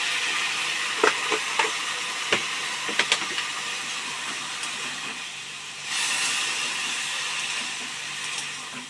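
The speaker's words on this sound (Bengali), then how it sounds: "ধনে, জিরে, লঙ্কা, হলুদ গুঁড়ো দিয়ে তাকে কষানো কষানো হচ্ছে।" Ground coriander, cumin, chilli and turmeric with a splash of water braising in a pan, a soft steady sizzle and hiss with scattered clicks of stirring, then a louder burst of sizzle near the end.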